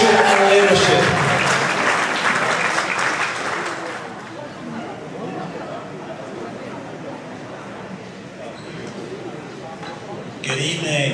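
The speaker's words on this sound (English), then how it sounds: "please give a round of applause for Deki for her year of guidance," Audience applause at a Rotary Club of Toronto evening celebration, loud at first and then thinning to a softer, sustained patter for several seconds before a brief swell at the end; speech-like sounds mingle in.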